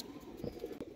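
Pigeons coo softly in a loft where mother intake birds are kept. Several low, rounded coos rise and fall over about a second against a faint background hiss, with no talk.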